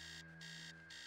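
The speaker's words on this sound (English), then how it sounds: "Upstairs, the sound of an alarm clock blaring!" An electronic alarm clock blares upstairs in the game Stories Untold, a faint, distant series of pulsed high beeps with short gaps between them.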